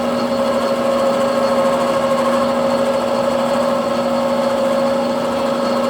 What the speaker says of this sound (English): being this is a finished pass, it's trying to chatter